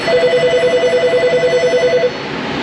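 A telephone rings inside an auto repair shop, a rapid warbling electronic trill that repeats steadily for about two seconds and then cuts off, leaving low shop noise.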